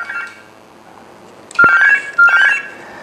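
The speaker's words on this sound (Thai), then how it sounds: "ในกรณีที่มีสายโทรเข้ามานะครับ คุณสามารถเลือกรับสายจากเครื่องไหนก็ได้นะครับ" A Gigaset cordless phone sounds for an incoming call: after a short faint tone and near-silence, a sharp click leads into two loud electronic ring bursts close by, each under a second long.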